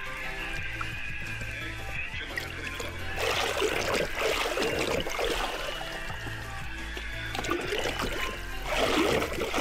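Old rubber seals from a lock are dunked and swished in a bucket of water, giving steady splashing and sloshing close by that grows busier in spurts.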